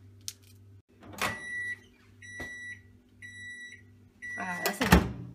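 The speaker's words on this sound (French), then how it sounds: "nous avons mis le chocolat 1 minute au micro-ondes" A microwave oven melting chocolate hums low and steady while several short electronic beeps ring out. A louder clatter comes near the end.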